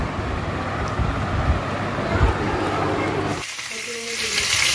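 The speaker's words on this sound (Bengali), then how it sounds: "তার জন্য এই যে মাছ ভাজা হচ্ছে" Fish frying in a pan in a home kitchen, a steady dense sizzle that runs close and loud for several seconds before it thins and gives way to brief faint talk.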